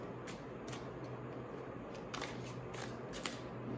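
Tarot cards are shuffled by hand in quick, soft riffling bursts, several sharper flicks spaced through the few seconds over a faint steady background, close and with no talking.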